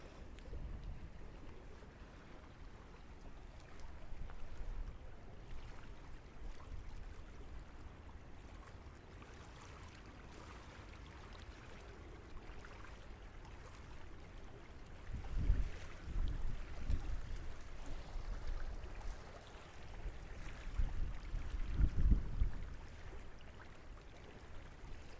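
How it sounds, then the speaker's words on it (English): Wind and waves outdoors in nature, a faint, low, continuous rumble of gusts and wind buffeting the microphone, swelling in stronger bursts toward the end. "The wind is getting stronger and stronger, and it's getting really obvious by the wave."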